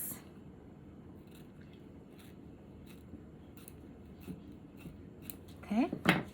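Scissors snipping a slice of Dollar Tree decorative mesh, a series of soft crisp cuts spaced through a quiet indoor background, ending with louder rustling of the material being handled.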